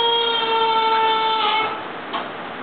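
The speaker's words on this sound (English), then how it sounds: "That's the garbage truck." A garbage truck passes outside, heard as a steady tonal droning with a horn-like quality and a harsh mechanical wash, fading partway through with a small bump near the end.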